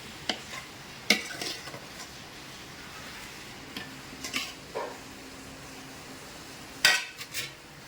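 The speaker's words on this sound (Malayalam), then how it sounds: "അങ്ങനെ നമ്മുടെ സവാള വഴറ്റിയെടുക്കുവാണ്" Onions sautéed in a pan during home cooking, with a soft, quiet sizzle broken by a few louder scrapes and clinks of a spoon against the pan, spaced several seconds apart.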